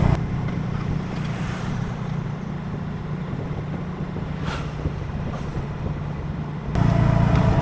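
Wind buffets the microphone over a steady low engine drone from a small motorbike riding through the Cambodian countryside near Angkor Wat, with a sharp gust rising in the last second.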